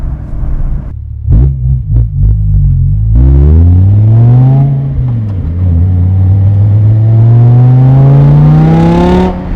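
A BMW E60 M5 engine revs loudly up close, with a few sharp blips, then a long deep rising drone climbing in pitch, no talking.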